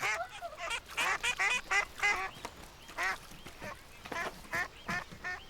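Cartoon ducks quack in a lively series of short, nasal calls, several bursts in uneven rhythm, close and clear over a quiet background.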